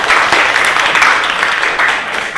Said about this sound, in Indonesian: Sekali lagi tepuk tangan buat kalian semua.